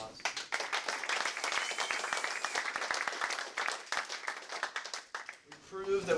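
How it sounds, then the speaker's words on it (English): A small group at a team daily recap meeting breaks into clapping, brisk individual claps fairly close, thinning out near the end as a voice starts speaking. "I think that deserves a round of applause"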